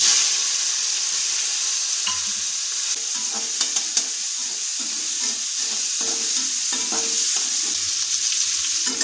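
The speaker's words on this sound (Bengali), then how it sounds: "দেড়শো গ্রাম চিংড়ি মাছ ভাজা করে নেব" Prawns frying in oil in a wok, with a steady close sizzle and crackle running throughout and occasional sharp pops and stirring clinks.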